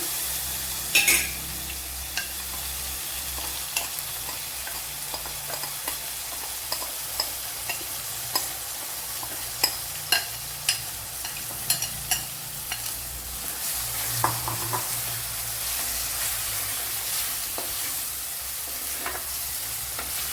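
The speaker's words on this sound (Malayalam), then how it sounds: "ഇതിലേക്ക് ഇനി നമ്മൾ ഈ കലക്കി വെച്ചിരുന്ന പൊടി അങ്ങോട്ട് ഇട്ട് കൊടുക്കാം" Soaked spice powder paste frying in a pan for Vankada fish curry, a continuous sizzle with regular spoon scrapes and taps as it is stirred, close and without speech.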